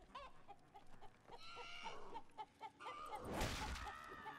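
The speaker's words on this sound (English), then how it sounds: "Oh. Chicken. Ghost chicken." A ghost chicken in the game City of Brass clucks in a quick series of short, pitched calls, followed by a louder whooshing swell near the end.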